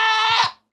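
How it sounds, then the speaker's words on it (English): Screaming goat from the Minecraft video game letting out a single loud, strained hurt bleat that rises, wavers and then cuts off, heard alone and close. "Screaming goats hurting."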